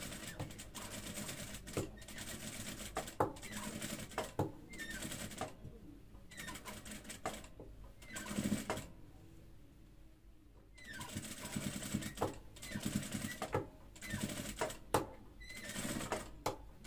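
Sewing machine stitching a folded fabric neckline from the reverse side, running in repeated bursts of rapid mechanical clatter with brief pauses between, close and steady.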